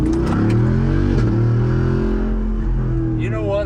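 Car engine on 37-inch tires revving hard with a throttle cut as it shifts, a loud close drone holding steady then dipping briefly before climbing again, with voices over it.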